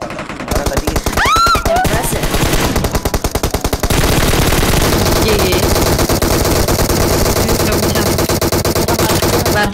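Dense automatic gunfire in the PUBG video game, loud rapid bursts of machine-gun shots filling the whole stretch almost without pause, with players' voices faintly under the shooting.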